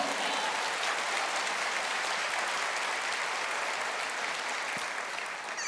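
A church congregation applauds during a sermon, a dense, even roar of clapping from a large crowd that holds steady at moderate volume and stays unbroken to the end.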